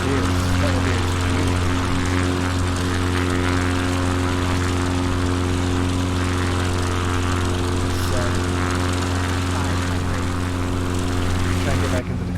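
CubCrafters NX Cub propeller aircraft at full throttle during a bush flight over New Zealand, a loud steady engine and propeller drone heard from inside the cabin, with voices talking over it throughout.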